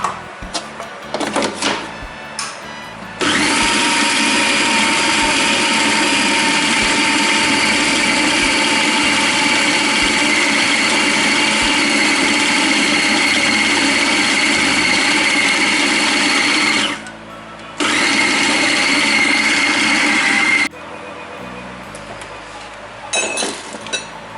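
An electric kitchen grinder blends chicken for nuggets in a loud, steady whir that runs for about fourteen seconds, stops briefly, then runs again for a few seconds amid clinks of handling before and after.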